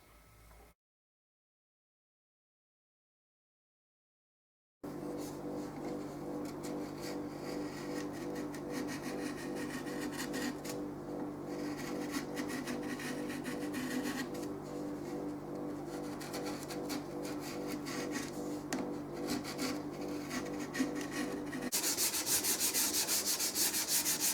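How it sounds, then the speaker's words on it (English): Steady, continuous sanding of wooden mandolin rim linings, a dense abrasive rubbing that runs close and loud for about twenty seconds after a short pause, shifting to a brighter, harsher scrape near the end. "So the linings have all been shaped and sanded"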